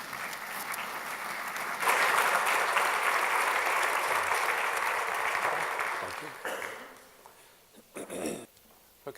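An audience applauds to welcome speaker Steve Binkley, a steady, loud round of clapping lasting several seconds that fades out, followed by a few scattered sounds.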